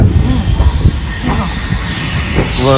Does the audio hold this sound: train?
yes